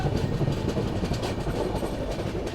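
A sleeper class train travels from Indore to Pune with loud, steady rumbling and a rhythmic clickety-clack of wheels over rail joints, heard from inside the carriage.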